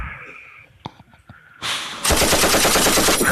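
A toy machine gun fires in a loud, continuous rattling burst after a few faint clicks and a brief rising whir, the rapid shots running on without pause.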